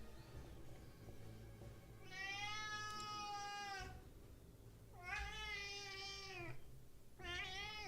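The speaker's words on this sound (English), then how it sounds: "Why are you meowing at me?" A cat meows three times indoors, long drawn-out meows close by, the first and second lasting nearly two seconds each and the last cut short, over a steady low hum.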